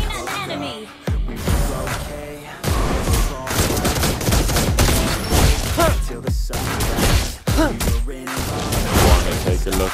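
Granger firing his guns in Mobile Legends during a fight against Fanny: loud, dense bursts of rapid gunshots and impact bangs, packed back to back for the whole stretch with only brief breaks.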